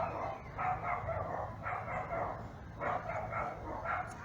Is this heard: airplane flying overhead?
no